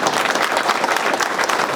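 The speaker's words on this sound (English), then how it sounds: "give us a round of applause" A dinner crowd at a fan event for Aden Thao at The Fresno Center breaks into dense, sustained applause, many hands clapping at once, fairly loud and close.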